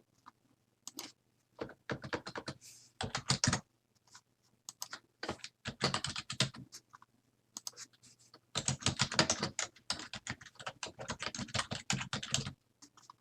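Fingers type on a computer keyboard while filling in an online form, rapid clattering bursts of keystrokes separated by short pauses, close and clear with no speech.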